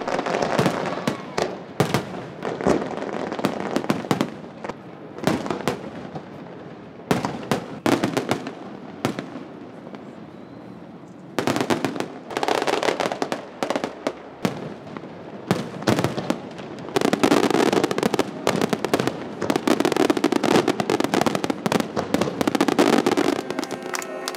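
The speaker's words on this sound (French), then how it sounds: "C'était comme des étoiles et feux d'artifice." A fireworks display over Monaco, seen from a boat, fills the air with loud, continuous bursts and crackling reports, dense volleys broken by brief lulls and building to sustained barrages.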